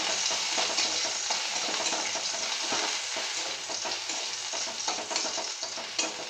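Crushed garlic sizzles steadily in hot oil in a pan, with occasional clinks and scrapes of a stirring utensil, a continuous close frying hiss for a Bengali greens dish.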